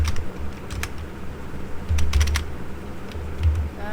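Someone types a file path on a computer keyboard in quick clusters of close, crisp key clicks with short pauses between bursts, over a low hum.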